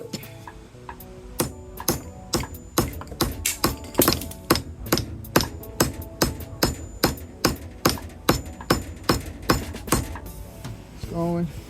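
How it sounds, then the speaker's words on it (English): Steady, sharp hammer blows strike as a new handle is driven into an old hammer head, about two per second in a regular rhythm, close and loud, with brief talk between strikes. "Shall we do it with the hammer now?"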